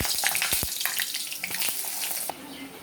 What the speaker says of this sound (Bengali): এবার আমি বেগুনটা একটু ভেজে নেব